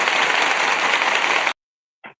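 A short burst of applause sound effect: dense clapping and cheering runs steady for about a second and a half, then cuts off abruptly, followed by a brief faint blip.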